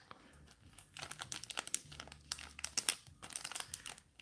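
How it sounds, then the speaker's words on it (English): Plastic packaging crinkled and torn while unwrapping Bakugan Battle Planet cards, a close, quiet run of irregular crackles and crisp snaps with no talk. "Going to get it out of this packaging."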